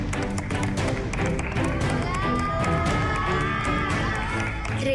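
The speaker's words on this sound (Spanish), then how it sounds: "Con un fuerte aplauso vamos a recibir a estos 15 chicos." A live studio crowd at a televised junior cooking competition final bursts into loud, sustained applause and cheering as fifteen children are welcomed into the kitchen, with shouts over the clapping.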